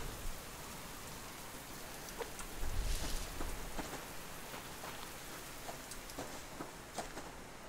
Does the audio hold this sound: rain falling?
yes